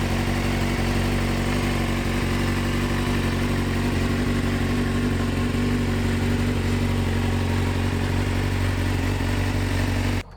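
A 2003 Suzuki GSX-R 600 sport bike engine runs steadily after a stator replacement, a loud close even drone held for about ten seconds before cutting off abruptly.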